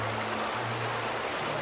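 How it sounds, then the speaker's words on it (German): Loud flowing water rushes in the game The Vanishing of Ethan Carter, a constant broadband roar over a low steady hum, heard alone without speech. "Das Wasser ist so laut."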